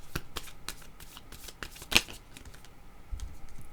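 Tarot cards being shuffled by hand to draw another card, a run of crisp rapid riffling flicks and soft slaps close by, with no talk over it.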